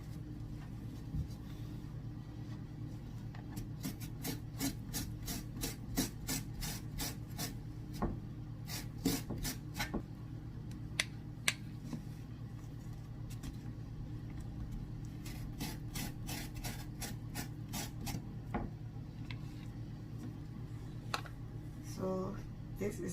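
The inner flesh of a banana peel is scraped in quick repeated strokes, a soft rasping rub recurring rhythmically at close range and low volume.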